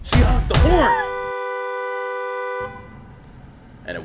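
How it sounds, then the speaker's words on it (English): A car horn sounds one long, steady honk that starts after a couple of loud thumps and then cuts off abruptly, leaving a quiet stretch before a faint knock at the end. "She honked the horn."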